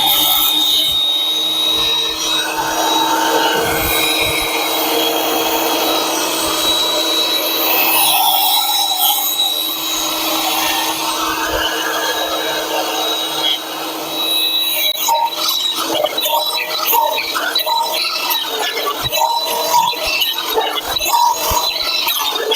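A small, inexpensive benchtop planer feeds rough sawn wood and leaves it finished, giving a steady loud rasping machine roar that runs continuously, with the texture turning choppier and more broken partway through.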